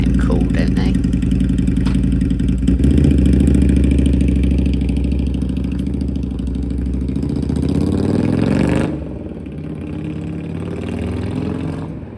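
A parked motorcycle's engine runs loud and close on a street in Christchurch, New Zealand, with a steady low idle that swells into revs and then settles back down.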